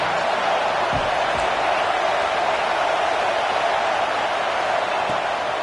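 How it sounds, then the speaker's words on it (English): Stadium crowd at a college football game roaring steadily and loudly on a defensive third down, a dense continuous wash of cheering with no pauses. "Decibels rising as the crowd gets behind this defense on third down."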